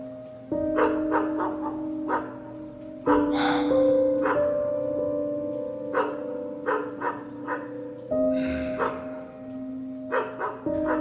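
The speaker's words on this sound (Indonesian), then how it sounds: "Sesekali ada suara anjing melolong." A dog howls at night, long drawn wails rising and repeating in several bouts, with sharp barks and knocks between them, fairly loud and near, over a steady background tone.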